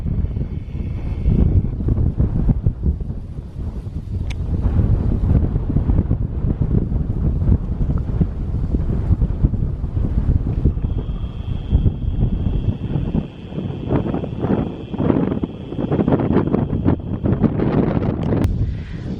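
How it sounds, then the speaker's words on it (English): Power line wires and a loose piece of metal rattle in strong wind outdoors, a continuous rushing gust noise with steady buzzing and intermittent rattles running throughout. "the wires are rattling from the wind"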